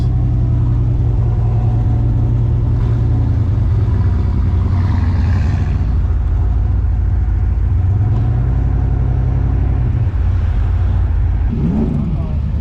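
Car creeping through congested city traffic on the way into Norman during a race week, with a steady low engine rumble and road drone throughout and a brief rise in revs near the end, close and continuous.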